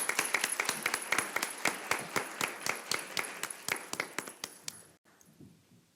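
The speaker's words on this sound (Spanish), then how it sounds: "Demos un fuerte aplauso a la doctora Daphna Feinholz" An audience at an academic lecture on bioethics applauds a speaker, Dr. Daphna Feinholz, with dense, steady clapping that gradually thins and fades into near silence.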